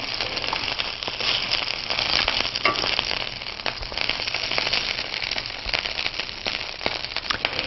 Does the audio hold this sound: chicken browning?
yes